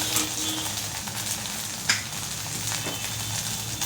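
Sago mixture for a weight-loss saggubiyyam recipe sizzles steadily in a pan, a constant close frying hiss with a brief louder crackle partway through, and no voices.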